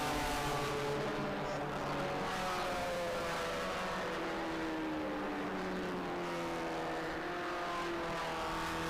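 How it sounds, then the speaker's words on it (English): Race cars at Road Atlanta in the Mission Foods SpeedTour 2025, a Honda among them, accelerate as one after the green flag. Several engines snarl and rise together in overlapping, climbing tones, loud and continuous throughout. "Green flag and we're racing."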